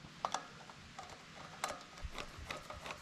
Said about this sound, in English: And then I'll reinstall the 2 screws that hold it in place.